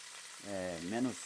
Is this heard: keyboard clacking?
no